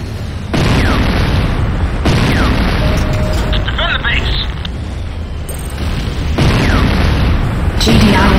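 Deep booms from an exploding GDI infantry barracks in the Renegade video game, several heavy blasts that each rumble on amid continuous loud battle noise.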